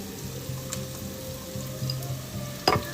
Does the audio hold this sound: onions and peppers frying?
yes